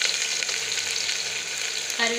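Onion, curry leaves and green chillies sautéing in oil with mustard seeds, cinnamon and cloves for beetroot kurma: a loud, steady, close sizzle, with a brief stir or fresh crackle flaring right at the end.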